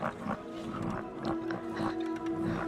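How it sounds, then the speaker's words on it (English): Low, throaty croaking pulses repeat over a steady hum, a soft synthetic frog chorus with rhythmic bursts and no talking. "Azandar will turn on the sounds of the frog caller to lull him to sleep gently"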